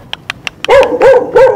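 A dog at a rural home in Vietnam gives a few short yips and then three loud, close barks in quick succession, with no voices.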